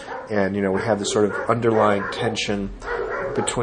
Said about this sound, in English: I apologize for the dogs that are going crazy